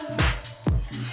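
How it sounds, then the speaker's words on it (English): Two driving dance tracks played out of sync by a DJ clash, their kick drums landing at uneven points against each other so the rhythm sounds lopsided and flammed. "And this means the track is running not very much in sync."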